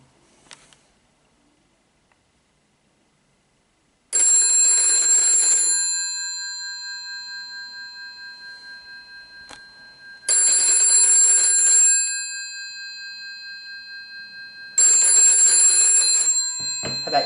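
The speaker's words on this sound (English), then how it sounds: "if I ring that phone, it'll do the United States ringing cadence" A telephone bell rings in the United States cadence, three long loud bursts of electric ringing separated by about four seconds of silence, alone in a quiet room with no talk.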